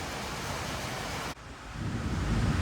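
Rain runs down a window in a steady broadband hiss that breaks off sharply partway through, then returns with a heavier, deeper wash that builds toward the end.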